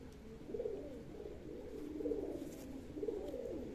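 Pigeons coo inside a pigeon loft, three soft repeating coo phrases spaced about a second apart over a low steady background, fairly quiet and without speech.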